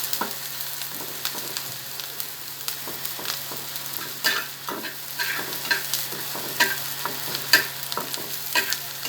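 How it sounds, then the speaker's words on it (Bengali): Chilies, onion and garlic fry in mustard oil for an elephant foot yam mash, a steady broadband sizzle with frequent stirring scrapes and clicks, close and moderately loud, growing busier in the second half, no voices. "ওলকচু ভর্তার জন্য মরিচ, পেঁয়াজ, রসুন আর সরিষার তেল ভালো করে ভেজে নেব।"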